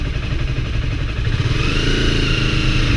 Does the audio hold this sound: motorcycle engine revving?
yes